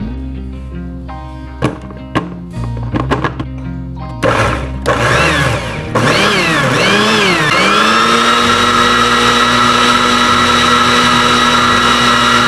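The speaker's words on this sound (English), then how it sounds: "put it in the blender" A kitchen blender with scraped aloe vera gel starts in short stuttering pulses, then runs steadily with a loud, whirring motor hum as the speed rises and settles; close, with no talking.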